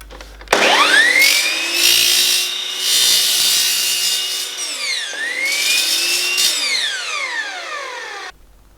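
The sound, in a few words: cutting miters into aluminium channel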